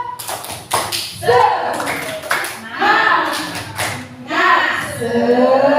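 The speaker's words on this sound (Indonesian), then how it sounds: "Tepuk semangat." Rhythmic group clapping, a patterned 'tepuk semangat' cheer clap, from an audience at a teacher-training discussion session, loud and close with voices chanting and talking over the claps.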